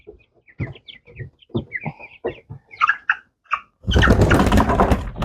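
Ross 708 broiler chicks, 24 days old, clucking and peeping in short bursts, close by, followed by a louder rustling, scuffling commotion as they are picked up and moved.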